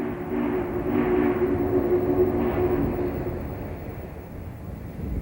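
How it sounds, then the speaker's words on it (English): Union Pacific Challenger 3985, running as Clinchfield 676, works up a grade toward a river crossing, heard as a distant, steady rumble with wind noise that slowly fades. "The Challenger works up the grade and across the river into Elkhorn City."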